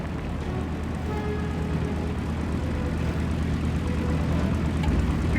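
A propeller plane's engine drones loud and steady during an aircraft carrier takeoff in War Thunder, a dense continuous roar that grows slightly fuller as the plane gathers speed, with no talking.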